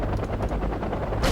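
Video game combat with helicopters, a dense close rotor chop blended with rapid gunfire in a continuous, loud, rattling wash.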